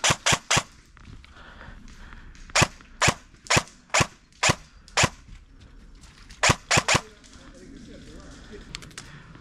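Sharp gunshots during a combat game fire in quick bursts and single cracks, about a dozen reports spread across the stretch with quieter rustling and movement between them.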